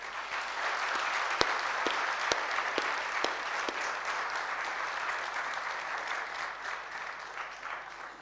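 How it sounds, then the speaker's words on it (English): An audience at a conference closing ceremony breaks into sustained applause, many hands clapping densely and evenly for several seconds, with a few sharp nearby claps standing out and no speech over it. "can I request all of you for a special round of applause for Sonam Wangmu, please."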